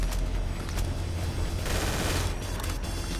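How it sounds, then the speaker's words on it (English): Uzi submachine guns firing in a video game, a loud, continuous stream of rapid automatic bursts with no pauses or talking. "Let's hear it for the Uzis, huh? These things rule."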